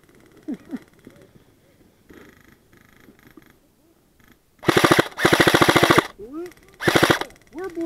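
Bursts of automatic gunfire during a team assault game, two or three loud rapid rattling strings standing out after a quieter stretch with faint shouting voices in the background.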